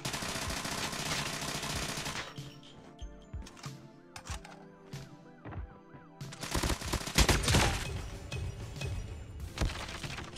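Gunfire in Call of Duty Mobile comes in sharp bursts of rapid shots, loud at the start and again near the end with quieter gaps and game effects between.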